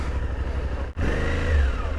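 Close by, the engine of a new Suzuki V-Strom 800DE motorcycle runs with a steady throb. It cuts out for a split second, then resumes with a slightly rising tone.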